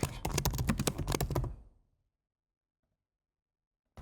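Rapid keystrokes on a computer keyboard while filling in a signature field on an online enrolment form, a dense burst of clicks for about a second and a half, then silence.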